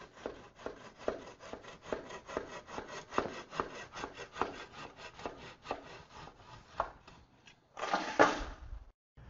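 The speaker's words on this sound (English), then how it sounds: "Even with very dense products like a Front Rock MD, easy to make a clean, accurate, straight cut very quickly" A TapeTech insulation tool slices through a dense stone wool insulation batt in quick, even back-and-forth rasping strokes, close up, then ends with a louder, rougher burst of tearing.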